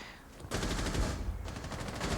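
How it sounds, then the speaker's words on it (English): Rapid bursts of automatic gunfire from a Rainbow Six Siege pro league match on the Border map, dense and sustained after a brief quieter opening, heard under game ambience without commentary. "A lot of gunfire, though."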